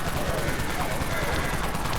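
Rapid, dense automatic fire from the Wraith Cannon in Dead Frontier, a continuous loud barrage of overlapping shots with no gaps across the whole moment.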